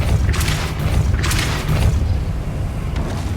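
Depulso force spell in Hogwarts Legacy on Xbox Series S unleashes deep booming whooshes, two strong bursts in quick succession followed by a softer third, loud and close over a rumbling game backdrop.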